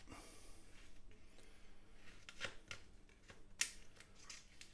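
A few quiet, sharp snips of scissors cutting while baking a gypsy tart, spaced irregularly over faint background rustling.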